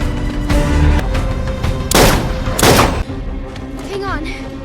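Gunfire in a film scene, Joseph shooting from a hill: two loud, broad bursts of shots close together, mixed with a score and other sound effects, followed by a shouted voice.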